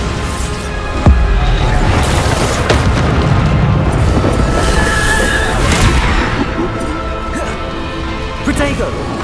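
Bombarda spell blasts in the Hogwarts Legacy video game boom loudly and almost continuously, dense crashing explosions layered with combat noise and a voice shouting spell names.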